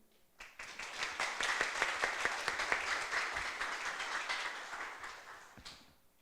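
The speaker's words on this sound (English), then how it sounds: "So a round of applause" Applause from an audience at an AI and medical industry talk welcoming a guest speaker, steady dense clapping that swells and then fades out over several seconds.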